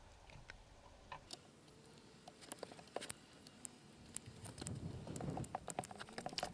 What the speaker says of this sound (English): it is yet again raining